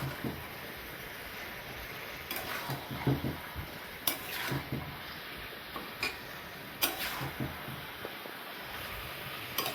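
Duck curry being stirred in a pot, with a series of sharp metallic clinks and scrapes of a spoon against the vessel at irregular intervals over a faint, steady background hiss.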